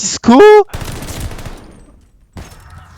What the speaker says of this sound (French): on a tenté un petit pré-shoot sniper, c'est pas passé, c'est dommage.